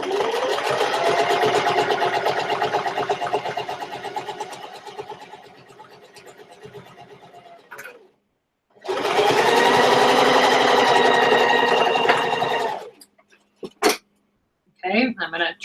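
A sewing machine runs in long steady bursts while stitching fabric for a box pouch, with a pause in between, then a few brief clicks and short whirs near the end.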